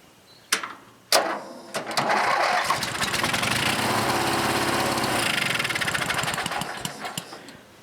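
Small engine that has sat unused, running on a little fuel in the carburetor with the fuel supply shut off: a pull-start or two, then a loud, close, chattering putter that holds steady.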